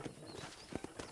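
Horse hooves clip-clop on the ground in Red Dead Redemption, a few quiet, uneven steps heard at a moderate distance under faint background ambience.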